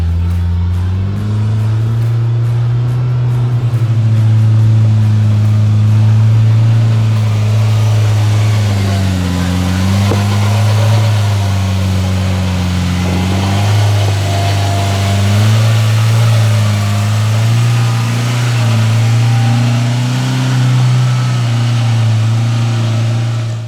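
A 2022 Polaris RZR Pro R four-seat side-by-side driving in rock mode with low gear locked, its steady loud engine drone rising and falling gently as the throttle varies, close and continuous with no talk.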